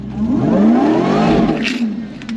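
An 840 hp Jeep Wrangler engine revs under a blip of throttle, its pitch rising and then falling back, loud and close, with a brief higher whir near the end.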